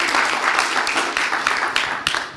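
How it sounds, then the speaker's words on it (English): A live audience at a Code for Earth final event applauding: dense, steady clapping from a crowd filling the clip evenly, moderately loud and close, tapering slightly at the end. "Round of applause."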